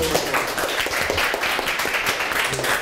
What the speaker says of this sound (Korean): 박수로 해야지.